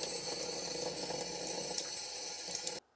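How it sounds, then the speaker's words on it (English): Water runs in a steady, close hiss for about three seconds as a 7mm PRC rifle cartridge case is filled, then stops abruptly into near silence. "Let's put the 7 PRC on the scale and then fill it with water."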